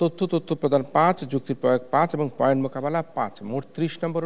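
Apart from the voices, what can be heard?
None of the usual background noises is heard.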